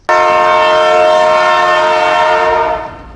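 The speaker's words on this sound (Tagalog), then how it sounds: "First ride, MRT." A loud, sustained train horn blares with rich steady harmonics for about three seconds, then fades slightly at the end.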